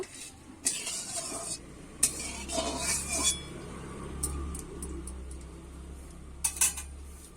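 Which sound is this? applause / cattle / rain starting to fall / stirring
stirring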